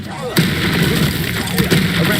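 A Confringo spell explosion in Hogwarts Legacy bursts in with a sudden loud boom, followed by a sustained rumbling roar and crackle.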